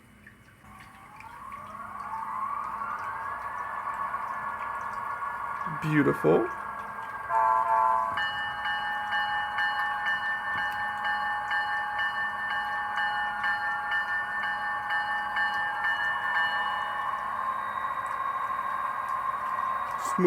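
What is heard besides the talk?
Bachmann GP35 HO scale locomotive DCC sound decoder running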